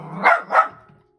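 Two sharp dog barks in quick succession sound close in a home craft room, followed by a brief faint whimper and then silence.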